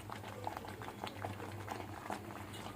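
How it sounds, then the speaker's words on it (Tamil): Ghee simmering in a thick coconut thirattu sweet mixture, soft close bubbling and popping blips in a steady patter, no voices. "இதில் இன்னும் கொஞ்சம் நெய் ஊற்றணும்"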